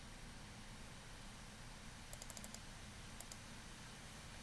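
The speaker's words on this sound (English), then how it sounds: "so I will just type it in" A few soft keystrokes on a computer keyboard come in two short bursts, faint against a steady background hiss.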